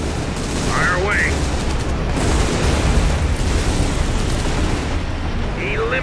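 Dense, loud gunfire and rumbling explosions in the World War II strategy game Codename Panzers: Phase One, fighting the Battle of the Bulge, a continuous barrage with faint shouted voices mixed in.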